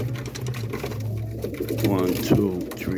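Roller pigeons coo inside a loft on a rainy morning, soft repeated throaty calls close by, mixed with someone talking over them.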